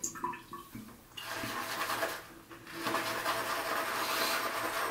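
A shaving brush is swirled through Del's shaving soap in a bowl, making a continuous wet, bristly scrubbing and squelching lather noise, close and fairly loud, with brief pauses between strokes.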